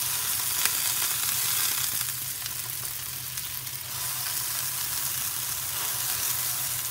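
A block of tofu frying in a pan of hot oil, a continuous bright sizzle with a few sharper pops, steady and moderately loud with no voices.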